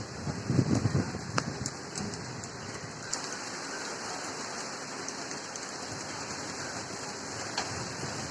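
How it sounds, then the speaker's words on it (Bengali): Steady rain falls in Chittagong, Bangladesh, with gusts of strong wind rushing and buffeting the microphone early on, then a constant dense patter continues. "এই দেখেন এখানে কিন্তু বাতাসও আছে মোটামুটি জোরে বাতাসও বলতেছে"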